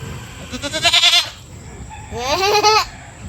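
Two wavering bleats from a goat nearby, one after the other with a short pause between, over faint background noise.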